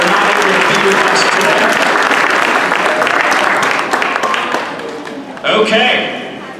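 A large audience at a school Veterans Day ceremony claps loudly and steadily, the applause thinning slightly toward the end before a brief renewed swell.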